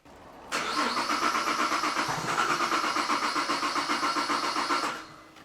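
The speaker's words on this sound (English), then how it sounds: "So let's start her up or crank it over and see what it does." A Holden VZ Commodore engine cranks with a steady, rapid pulsing starter rhythm for about four seconds, loud and close, then fades as cranking stops; no voices.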